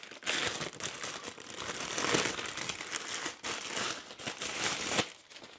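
Plastic crinkles and crumples continuously up close as the packaging bag of a small RC toy bus is handled and pulled open, in bursts of crackling.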